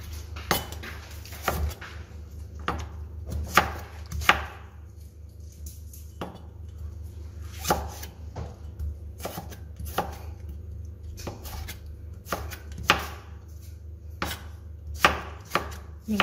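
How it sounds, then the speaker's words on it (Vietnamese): Knife slicing leafy vegetable stems into strips on a cutting board: sharp, close chops in irregular bursts, some rapid and some spaced apart, over a quiet low hum. "Còn cái phần này mình thái sợi."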